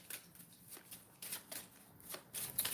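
Tarot cards being shuffled by hand in repeated riffling bursts, close and fairly quiet, with brief pauses between the shuffles.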